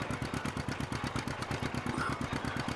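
A small, slow-revving two-cylinder diesel engine runs steadily with a regular low thudding beat, loud and close, with no talk over it.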